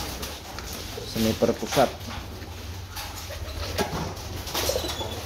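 Racing pigeons coo in a loft, soft low calls near and under steady background hum, with someone talking over them.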